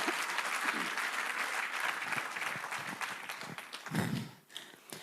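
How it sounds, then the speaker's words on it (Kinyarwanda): A church congregation applauding during a testimony service, dense sustained clapping from many hands that fades toward the end, heard at a moderate distance. "Mumumpera amashyi n'umwami."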